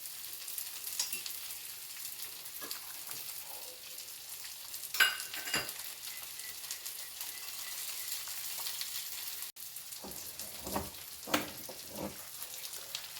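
Hot tempering of onion, curry leaves and mustard seeds hits boiling sambar with a loud sizzle and crackle that keeps frying steadily, punctuated by occasional stirring clinks and splutters.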